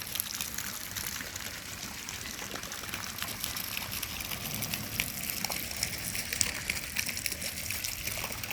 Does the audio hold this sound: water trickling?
yes